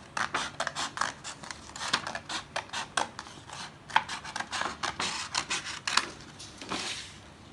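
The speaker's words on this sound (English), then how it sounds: "Now cut one part out." Scissors snip through paper to cut out one section, a quick run of crisp, close cuts and rasping slides repeating in an uneven rhythm, heard alone with no talk.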